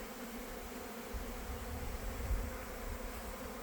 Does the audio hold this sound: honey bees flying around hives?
yes